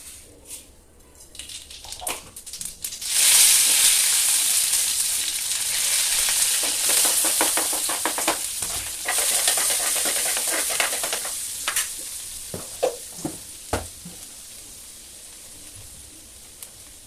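Poha cooks with onion, green chilli and a leaf tempering, sizzling loudly in a hot pan. Scraping stirs and light clinks break through the steady frying hiss, which fades slightly toward the end.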